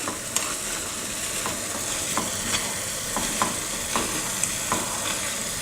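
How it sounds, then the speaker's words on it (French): An apple crumble mixture of apples with grated carrot is stirred in a bowl, giving soft, rhythmic scraping and light taps roughly every half second, fairly quiet and without speech. "on va bien venir mélanger la préparation"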